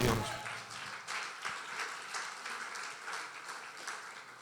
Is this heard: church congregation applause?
yes